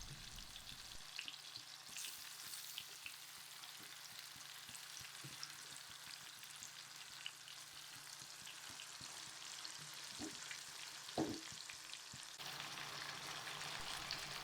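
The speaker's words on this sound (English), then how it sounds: "add one by one chicken pieces slowly to the frying pan" Chicken pieces frying in hot oil in a frying pan, a constant crackling sizzle close by with occasional louder pops and spatters, no talking.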